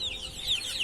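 Ducklings, both small and larger ones, loose on a rooftop, giving thin high peeping chirps that repeat steadily over a soft background. No one talks.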